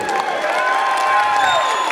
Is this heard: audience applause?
yes